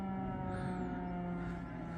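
A distant emergency siren sounds from across a river on a foggy night, a faint wail drifting over a steady low hum.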